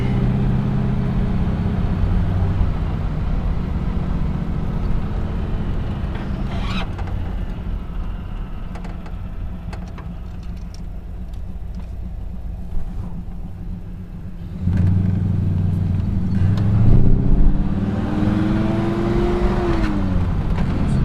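A classic Buick cruises along Route 66, a steady low engine rumble and road noise from inside the car, swelling louder near the end as it accelerates.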